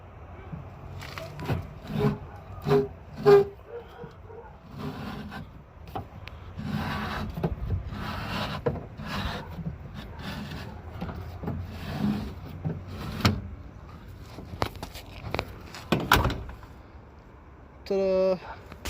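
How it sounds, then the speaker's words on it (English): An old 1965 Dodge Coronet 500 car door is worked open by hand, giving repeated wooden-sounding knocks, scrapes and rubbing creaks at close range, broken by brief pauses, with people talking at times. "get this door to hold open"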